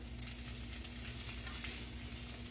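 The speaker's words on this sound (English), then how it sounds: "I'm going to let that one cook just a tad longer." Potato patties fry in a pan with a constant, even sizzle and faint crackling over a low steady hum, with no speech heard.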